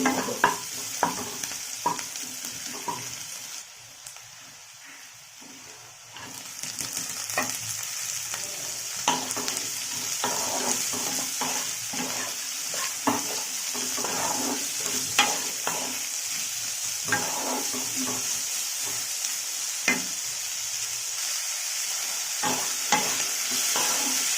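Steady, close sizzling of dried red chillies and bottle gourd peel frying in a hot pan, broken by frequent scraping stirs, with no talking.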